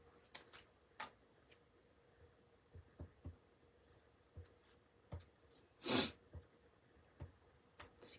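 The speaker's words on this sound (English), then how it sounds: "Excuse the sniffle." A single short sniffle from a person sitting close by, a brief, fairly loud burst of breathy noise in an otherwise quiet room, with only a few faint taps and clicks around it.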